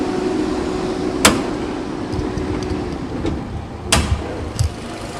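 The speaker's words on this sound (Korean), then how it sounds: "후드 열도록 하겠습니다." Hood of a gasoline Nissan Rogue SUV being opened: a few sharp, close latch clicks and metallic clunks, spaced apart, over a steady background hum from the running cooling fan.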